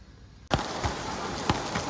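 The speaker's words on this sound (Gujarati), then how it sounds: "આ સુરતમાં ફૂલ વરસાદ શરૂ થઈ ગયો છે પાછો. બંધ થવાનો નામ જ નથી લેતો." Heavy monsoon rain in Surat begins abruptly and then keeps up as a dense, steady hiss of downpour with a few sharper drip impacts. No talking.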